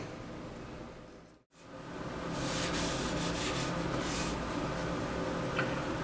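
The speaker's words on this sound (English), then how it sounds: "I'm getting ready to rub a coat of linseed oil on this thing and call it done." A cloth rubs linseed oil onto the wooden stock of a Springfield Trapdoor .45-70 rifle, making a close, steady rasping friction that pauses briefly and then continues with rhythmic strokes; no talking.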